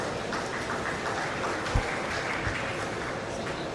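Steady applause from a crowd at a beef cattle show for the exhibitors and their heifers, a dense, even clatter of clapping filling the whole stretch with a couple of louder claps standing out.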